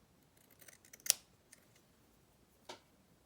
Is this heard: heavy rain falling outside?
no